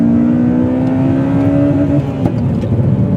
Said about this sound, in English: just bang through all the gears, eh? And the engine just immediately responds